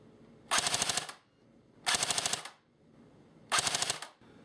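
An AGM MP008 airsoft M14 electric rifle fires three loud full-auto bursts, each about half a second of rapid buzzing shots, separated by short pauses.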